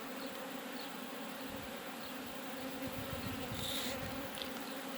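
Honeybees from a colony that has recently swarmed drone steadily inside an opened hive, a dense continuous hum that stays close and even for the whole stretch with no voices over it.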